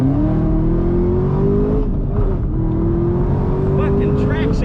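A Chevrolet Camaro ZL1 with manual transmission revving hard from inside the cabin, a loud continuous engine drone rising steadily in pitch, dipping briefly, then climbing again under traction control.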